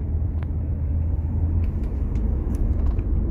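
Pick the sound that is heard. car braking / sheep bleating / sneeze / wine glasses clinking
car braking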